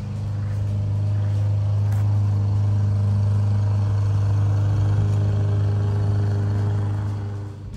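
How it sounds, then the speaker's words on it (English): Lawn mowers running nearby, a steady loud engine drone with a low rumbling hum that holds for several seconds and fades slightly at the end, with no speech. "here comes the guys mowing the lawns."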